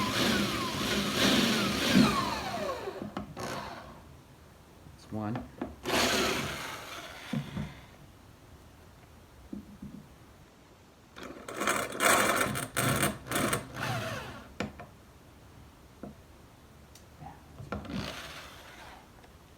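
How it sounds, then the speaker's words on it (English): A power drill driving screws into wood, including one through a knot, while a desk is built; whirring bursts of a few seconds each, separated by pauses, with a brief spoken remark. "Important to drill straight back."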